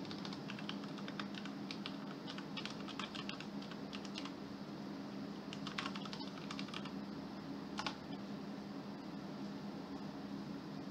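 Someone types a web address on a computer keyboard: irregular bursts of light key clicks come and go over a constant low fan hum.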